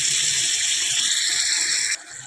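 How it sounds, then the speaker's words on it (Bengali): A small splash of water poured into a pan of pumpkin and potato curry, a steady close gushing stream that stops abruptly near the end. "আর দেখো একটু সামান্য জল দেবো,"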